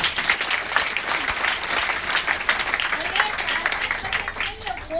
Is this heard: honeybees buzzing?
no